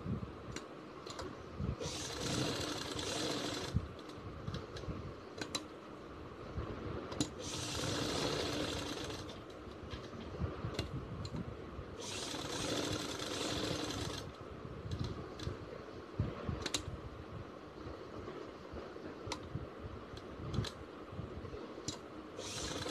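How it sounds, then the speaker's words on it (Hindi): Sewing machine stitching a poncha garment, running in several loud bursts of rapid mechanical whirring separated by brief pauses with scattered clicks, with no talking. "अब हम ये जो खाली जगह है, यहाँ से अपनी सिलाई शुरू करेंगे।"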